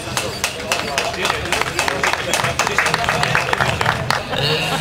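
Applause for an award laureate at an outdoor spring field event in Poland, a crowd clapping steadily and fairly loudly, many hands overlapping in a continuous patter with a brief dip near the end.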